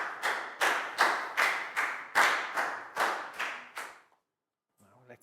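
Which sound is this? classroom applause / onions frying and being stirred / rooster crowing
classroom applause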